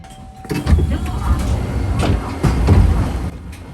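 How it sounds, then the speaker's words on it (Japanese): A train rumbles and clatters as it pulls into platform 1 at Tsuruga Station, Japan, on the Obama Line, low rumble and rattling joints swelling and easing, with no one speaking. "列車は敦賀駅の1番乗り場に入線"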